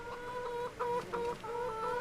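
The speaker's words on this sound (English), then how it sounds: "Got some chickens on the ground, clucking away." Chickens cluck on the ground of a farm in the Farming Simulator 2025 video game, a steady run of short, repeated clucks and calls at moderate level over soft game ambience, with no talking.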